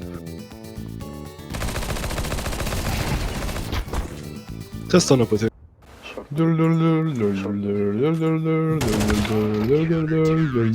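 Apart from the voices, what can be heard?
gunfire in the video game Counter-Strike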